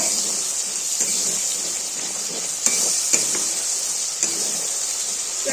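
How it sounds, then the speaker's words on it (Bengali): A spice masala with Kashmiri chilli and sugar is stir-fried in a pan, giving a steady bright hiss of frying oil with occasional spatula scrapes and taps, close and continuous, no one talking. "চিনি দেওয়া হয়ে গেছে, মশলার সঙ্গে ভালো মতো কষিয়ে নেব"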